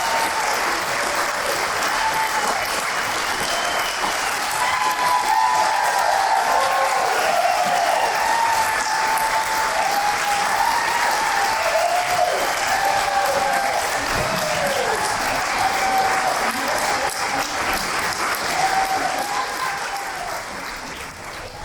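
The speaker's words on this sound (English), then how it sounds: "So just a round of applause for Linda real quick." A Sacramento panel audience applauds steadily and loudly for about twenty seconds, a dense wash of clapping with a few cheers that tapers slightly at the end.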